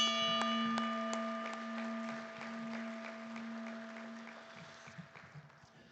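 Applause at a boxing hall of fame induction ceremony, scattered claps spread across a sustained bell-like ringing tone, fairly faint and steady, with the clapping thinning toward the end.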